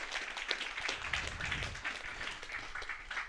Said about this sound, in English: Give Paddy a big round of applause.